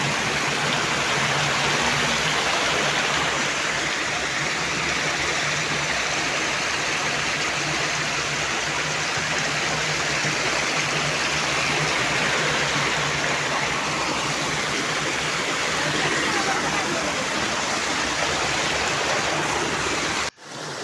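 A small stream by a field in the evening, flowing water rushing in a constant, even wash that stays close and unbroken throughout, with no voices.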